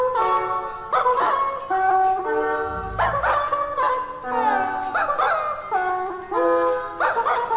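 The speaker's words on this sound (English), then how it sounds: "You're gonna hear a cover of a song in squeaky chicken noises." A pop song cover performed entirely in squeaky rubber chicken noises, with strings of high, nasal honking squeaks that follow a melody in bursts, loud and close, no voices.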